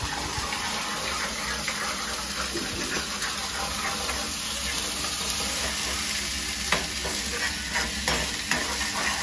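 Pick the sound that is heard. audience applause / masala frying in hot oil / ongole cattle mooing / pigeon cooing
masala frying in hot oil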